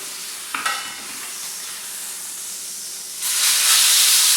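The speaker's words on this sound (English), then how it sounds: "we're going to go ahead and move our steak over, and we're going to flip it when we do it" A N.Y. strip steak sizzles in a hot pan, a brief clank as it is moved and flipped, then a loud, steady hiss of searing fat that swells and holds to the end, no talking.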